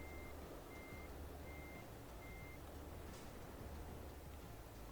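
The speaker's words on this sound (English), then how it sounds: "They're all beeping at me now as well." Truck reversing beeps from Euro Truck Simulator 2 repeat at a steady rhythm, four evenly spaced tones over a constant low engine rumble and broadband road noise.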